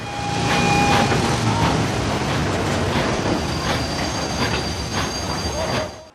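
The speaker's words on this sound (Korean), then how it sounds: "기차는 도착하고" A train arriving at a station: steady rumbling wheels and rhythmic clacking with high-pitched squeals of braking wheels, loud and close, with faint voices around.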